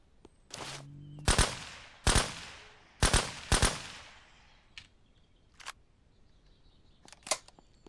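Gunfire from a gun in the video game SurrounDead: several sharp, loud shots in uneven bursts, a pair close together and then spaced single cracks, with faint game noises between them.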